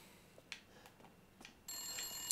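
A telephone rings in a video game, a steady electronic trill that starts abruptly partway through and continues to the end, fairly loud and alone after a few faint clicks.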